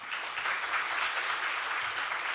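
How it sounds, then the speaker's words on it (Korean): An audience claps after a university leader lecture by a former prime minister at Korea University, a dense, even burst of applause from a crowd lasting a couple of seconds without talk. "귀한 강연해 주신 전 국무총리님께 큰 박수 부탁드립니다."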